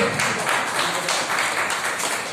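Audience applause welcoming a student at a Mission Vande Matram Foundation gathering: steady, dense clapping from a crowd, sustained and even throughout.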